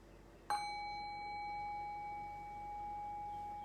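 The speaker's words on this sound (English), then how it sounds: "I'll ring the bell" A single meditation bell struck once during a guided breath and body session, a clear bright ding followed by a long, pure ringing tone that slowly fades in an otherwise quiet room.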